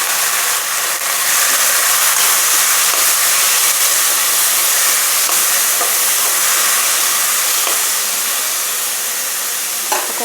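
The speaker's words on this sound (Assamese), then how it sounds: "এতিয়া মচুৰ দালিখিনি অকণমান সময় ভাজি ল'ম।" Red lentils (masoor dal) fry in a pan, giving a steady, close sizzling hiss that holds at an even level throughout, with no talking.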